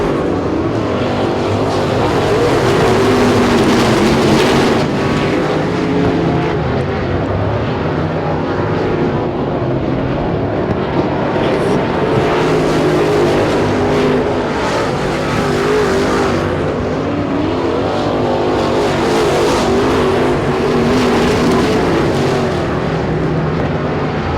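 Race cars roar around Super Bee Speedway at a season opener, loud continuous engine drone swelling and fading as cars pass close by, with no voices heard.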